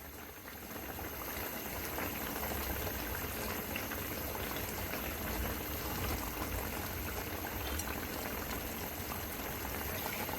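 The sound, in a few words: catfish curry simmering while gravy reduces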